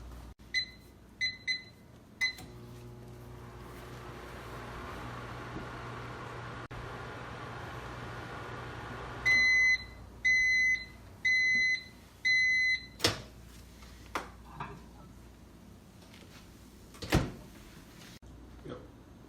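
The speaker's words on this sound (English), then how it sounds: "stick them in the microwave for 2 minutes" Microwave oven reheating stale chips: a steady low hum of the running oven, then a series of four loud, evenly spaced beeps when it finishes, followed by a few door and handling clicks nearby.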